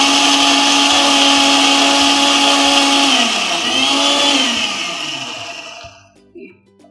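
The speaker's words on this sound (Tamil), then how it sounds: "என்னோடய ஃபேவரட்டான ப்ரெஸ்டீஜ் எண்டூரா மிக்ஸியில் தான் நான் அரைக்க போகிறேன்." A Prestige Endura mixer grinder grinds masala, a loud steady motor whine running for about three seconds before the pitch drops as it spins down and stops, leaving a few faint clicks.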